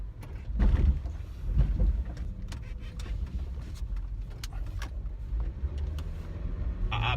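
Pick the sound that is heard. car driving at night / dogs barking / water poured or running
car driving at night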